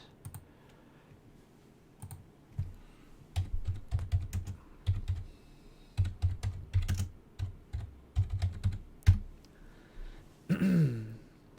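Quick bursts of typing on a computer keyboard, with close, crisp key clicks coming in irregular runs and short pauses, and a brief throat sound near the end.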